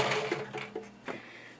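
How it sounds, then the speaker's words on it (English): A sewing machine stitches a dress, running a steady close mechanical whir that drives through the whole stretch at moderate level with slight rises and dips. "I just simply stitch right on top and run right back and meet where I stopped."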